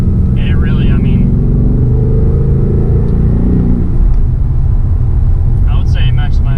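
A 2018 Ford Mustang GT's engine roars loud and close, a steady low rumble that climbs and then eases off, with no talk over it.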